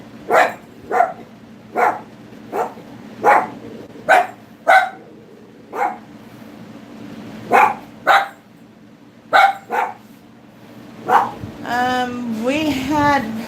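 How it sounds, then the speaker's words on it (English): A dog barks repeatedly in short, evenly spaced woofs, close by, ending with a whining, yelping vocalization over a low background hum. "You don't even know what you're barking at."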